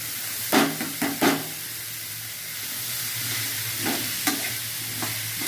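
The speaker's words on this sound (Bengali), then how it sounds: "মোচা কেটে সিদ্ধ করে রেখে দিচ্ছি জল ঝরিয়ে, এবার এটাকে দিয়ে দিলাম" Drained, boiled banana flower is tipped into spices frying in a pan: a few sharp scraping stirs near the start, then a continuous hissing sizzle with occasional softer stirs, and no talking.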